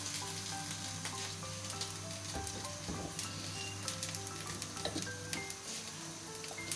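Rice goes into a pot of hot, sizzling biryani masala for chicken tarka biryani, giving a continuous crackling fry with faint stirring scrapes and soft tonal background hum, with no talking.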